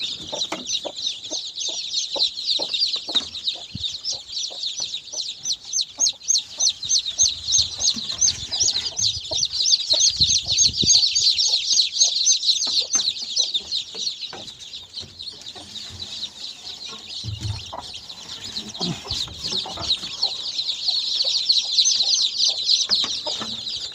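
A crowd of young chicks from a breeding pen peeps constantly in shrill, overlapping chirps, close and loud, with a few low scuffles and no voices.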